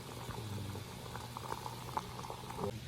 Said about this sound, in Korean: 끓여지면 차를 우리는데요